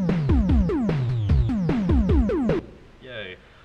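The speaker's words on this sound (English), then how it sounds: "The triangle drums." Famitracker triangle-channel drums in an old Mega Man style chiptune: a rapid, steady string of pitched, falling-sweep electronic drum hits for about two and a half seconds, then a brief softer synthetic blip.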